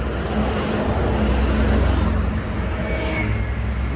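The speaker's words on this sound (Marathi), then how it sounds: "आली बघा दुसरी एक रिक्षा" Road noise from an auto rickshaw on a long highway trip, a steady engine and traffic rumble holding close and loud throughout with no clear surge of an approach.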